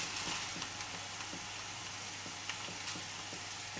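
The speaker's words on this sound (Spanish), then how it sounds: "Ya que está la cebolla frita, voy a poner" Steady faint sizzle of rice added to fried onion in a pan for a Romanian dish, a continuous hiss with a few soft stirring scrapes and small pops.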